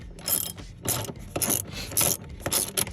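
A hand ratchet tightens the front seat bolts inside a 2013 Ford Fusion Titanium 2.0L, giving five or six bursts of rapid clicking at close range with brief pauses between them and no talk.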